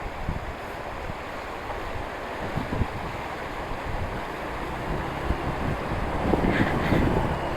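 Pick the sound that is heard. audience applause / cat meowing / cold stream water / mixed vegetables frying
cold stream water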